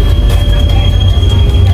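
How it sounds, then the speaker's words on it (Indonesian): The Pangrango passenger train sets off from Bogor Paledang station toward Sukabumi, a loud, steady low rumble of the moving train heard from inside the carriage, with no talk. "kereta api Bogor Kota Sukabumi ini sekarang udah mulai berangkat"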